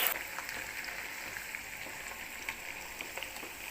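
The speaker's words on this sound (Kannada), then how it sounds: "ನೋಡಿ ಈ ಥರ ಫ್ರೈ ಮಾಡಬೇಕು" Field beans (avarekalu) frying in oil in a pan, a steady soft hiss and crackle of sizzling with faint scattered pops, close and even throughout.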